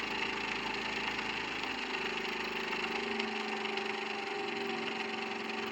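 An electric motor controlled by an Omron photoemitter hums steadily at close range, and its tone shifts and drops in pitch partway through as its speed changes.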